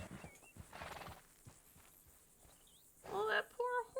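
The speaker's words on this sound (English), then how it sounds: "Oh, that poor horsey." A horse in Red Dead Redemption 2 lets out a loud, close whinny near the end, a wavering neigh with a short second call, after quieter hoof and ambient sounds and some talk earlier.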